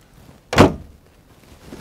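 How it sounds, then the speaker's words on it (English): A hydraulic excavator's cab door, a CLG922E, opens with a single short, solid thunk at close range, then goes quiet with faint background noise. "Open the door"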